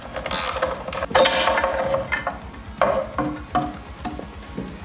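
A ratchet fitted with a 12 mm socket on a swivel clicks in quick rapid runs while loosening a motorcycle exhaust header, close up, with bursts of metallic handling and short pauses between strokes.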